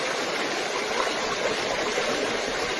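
A mountain stream flows through jungle hills in a steady, full rush of water that stays close and constant throughout, with no voices over it.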